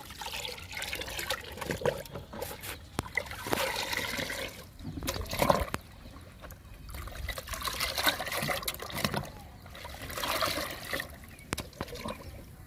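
Homemade plant tonic liquid being stirred in a container, giving a steady close trickling, sloshing water sound with occasional sharper splashes and knocks throughout, no talking.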